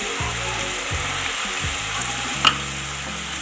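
Carrots and capsicum cooking in a pan for chicken vegetable spaghetti, a steady sizzle with repeated low stirring scrapes and one brief sharp utensil clink.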